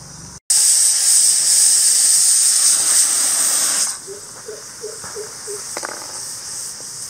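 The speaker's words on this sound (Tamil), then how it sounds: "பருப்பு வந்து 3 விசில் வந்துருச்சு, இறக்கி வச்சிடலாம்." A pressure cooker cooking lentils for sambar lets out a loud, steady steam whistle for several seconds, then cuts off, leaving a softer hiss with faint bubbling and clicks in a village kitchen.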